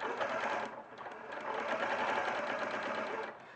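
A sewing machine stitches steadily around the outside edge of a fabric piece, using a small zigzag stitch. The close, continuous mechanical whirr dips briefly once and then carries on, with no voices.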